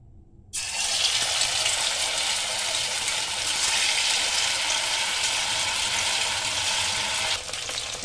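Mushrooms drop into hot oil and burst into a loud, dense, steady sizzle that starts abruptly and roars on close by for several seconds, easing slightly near the end.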